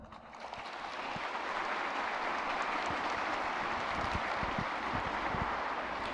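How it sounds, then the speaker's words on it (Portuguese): A church congregation breaks into sustained applause, clapping rising within the first second and then holding steady and dense to the end, with no voices over it. "Mas me ajudem a bater uma salva de palmas por cada um de vocês aqui presente"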